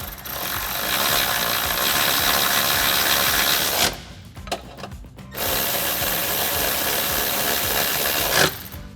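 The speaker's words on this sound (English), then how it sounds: "we can tighten those down with our same 13mm socket" A 13mm socket ratchet buzzes and clicks in rapid, continuous strokes while tightening bolts on Tacoma side step bars, pausing briefly midway before resuming close and loud.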